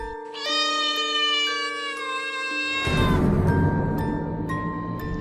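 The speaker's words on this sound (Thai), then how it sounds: "กระโดดขึ้นไปนั่งบนฝาโลงศพแล้วร้องเหมียวๆซะงั้น" Cartoon black cat meowing from atop a coffin lid during a Thai funeral, a long drawn-out yowl over soft background music, joined near the end by a louder, broader noise.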